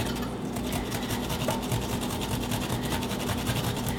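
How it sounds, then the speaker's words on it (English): Fresh ginger root, skin still on, rubs against an ordinary kitchen grater in fast, continuous rasping strokes that form a steady scratchy texture close to the microphone, with no talking. "I'm grating this skin and all because it doesn't really matter"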